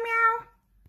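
A cat meows once, close and clear with a drawn-out tonal call lasting about half a second, followed by quiet room background and a soft faint thump.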